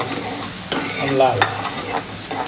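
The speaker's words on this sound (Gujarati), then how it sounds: "આમાં આપણે ડુંગળીને તળવા દઈએ" Onion sizzling in hot oil for a Rajwadi-style dal tempering, stirred with a few sharp scrapes of the spoon against the pan over a steady, close frying hiss.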